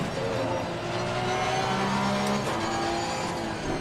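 A Porsche Cup race car in a sim racing game at Bathurst drones loudly and steadily close by, its engine note holding a constant roar with slight pitch shifts as another car comes up to pass.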